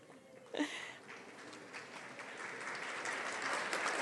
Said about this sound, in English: I do think she deserves a hand clap